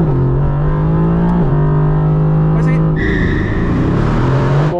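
A Mercedes-AMG engine revs up loudly and rises in pitch, holds a high roar, then drops briefly as it shifts and climbs again, heard up close.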